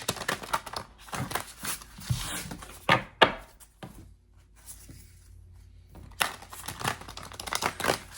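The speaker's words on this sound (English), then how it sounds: "So I'm just going to shuffle a couple times" Crisp papery riffling and soft slaps of cards being shuffled in bursts, with brief quiet pauses between, close by.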